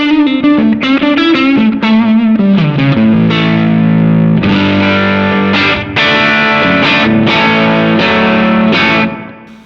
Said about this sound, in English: So the pedal sounds like this.